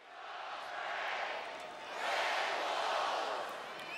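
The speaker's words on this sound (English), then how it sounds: "Crowd has been energized." Crowd roar swells at a college football game between Arkansas State and Louisiana-Lafayette, a broad distant wash of cheering that rises in two waves, the second louder and longer.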